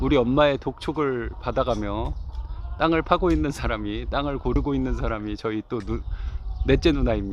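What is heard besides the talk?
None of the usual background noises is heard.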